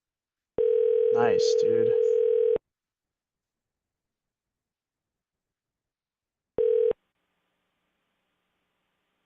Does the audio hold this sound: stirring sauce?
no